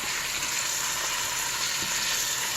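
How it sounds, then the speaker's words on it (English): Steady, close sizzling of chicken browning in a pan, a constant hiss with faint pops and no talking. "you can hear it sizzling"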